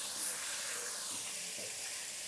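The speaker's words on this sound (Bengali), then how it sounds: "সুন্দর করে মাছটা লাল লাল করে ভেজে নেব।" Pomfret fish frying in a pan as one side turns red-brown, giving a soft, steady, continuous sizzle with no voices.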